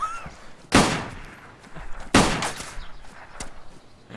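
Two loud, sharp gunshots ring out about 1.4 seconds apart in the survival game DayZ, each with a short echoing tail, followed by a fainter third shot.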